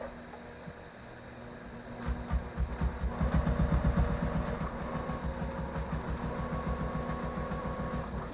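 A sewing machine stitches quilt binding, starting after a brief lull into a fast, even mechanical chatter with a motor hum, close and loud, running steadily to the end without talk.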